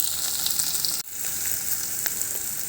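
Onions sizzling in a pan with a pinch of salt, a steady bright frying hiss throughout with a brief dip partway, moderately quiet and close, no voices.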